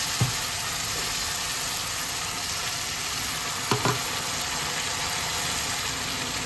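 Browned onions frying steadily in a pan as spice paste goes in, a continuous loud sizzle with a couple of brief clatters of stirring midway and no talk.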